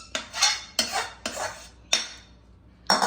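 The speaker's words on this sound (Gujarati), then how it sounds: "થાળી નીકાળી દઈશું. થાળીને થોડું ઘી લગાવી દીધું" A metal thali plate being handled in a home kitchen while making sukhadi prasad, giving four sharp clattering clanks at irregular intervals, fairly close and alone with no talk.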